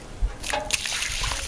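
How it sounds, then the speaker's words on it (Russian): Warm water is poured over a grapevine bush being readied for green grafting, giving a short wet splash and trickle with a couple of heavier splatters, close and moderately loud. "Заливаю куст теплой водой"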